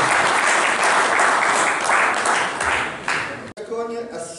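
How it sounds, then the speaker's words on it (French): An audience at a French dog trial event applauds steadily, dense clapping filling the first three seconds before thinning out, with a voice speaking as it fades. "On peut les applaudir."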